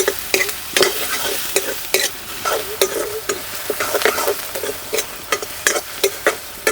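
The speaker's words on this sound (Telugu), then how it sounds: "వెంటనే కోసి పెట్టుకున్న ఉల్లిపాయలు, 2 ఎండుమిర్చి కూడా వేసుకొని 2-3 నిమిషాల పాటు బాగా కలుపుకుందాం." Sliced onions and dried red chillies sizzle in hot oil with cumin in a kadai. A spoon scrapes and stirs in a steady, close rhythm over the continuous frying hiss.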